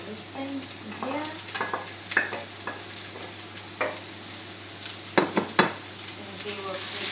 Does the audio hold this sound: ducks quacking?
no